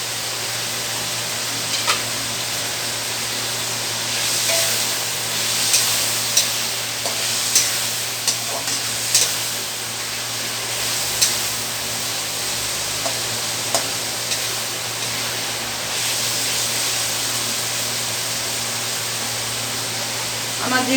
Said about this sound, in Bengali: এখন আমি এটা একটু হালকা ভাজা করে নেব।